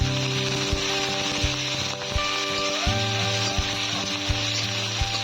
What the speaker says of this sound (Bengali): এবার দিয়ে দেবো পেঁয়াজ কুচানো আর কাঁচা লঙ্কা চেরা একসঙ্গে দিয়ে দেবো